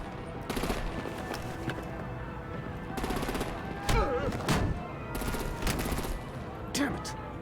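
Repeated bursts of gunfire and artillery in a Batman Telltale Series video game battle, loud and close in rapid volleys over a steady rumbling background, with shouting voices mixed in.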